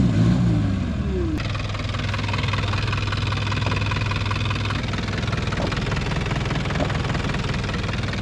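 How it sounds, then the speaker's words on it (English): A Mitsubishi Jeep idling on a rocky off-road trail, its engine holding a steady low rumble with a faint knock throughout, preceded by a brief clunk and a short sweep of engine noise at the start. "Mitsubishi Jeep."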